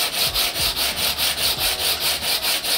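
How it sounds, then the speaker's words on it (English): Hand sanding along the wrapped rails of a surfboard, a fast rhythmic rasp of back-and-forth strokes, about four per second, close and steady with nothing else heard. "We just wrap our rails and then sand them smooth."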